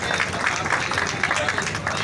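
Crowd at a village welcome ceremony in Dubaldhan honouring a newly selected army lieutenant, clapping steadily and densely for about two seconds as a continuous wash of applause.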